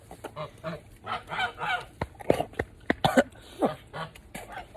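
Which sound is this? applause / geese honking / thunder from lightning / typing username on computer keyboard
geese honking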